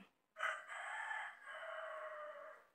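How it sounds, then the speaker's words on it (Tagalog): Chickens outdoors, with a rooster letting out one long, drawn-out crow that rises sharply and holds for over two seconds, fairly faint and distant, with no talking. "masyado pong maingay sa labas kasi meron kaming mga manok."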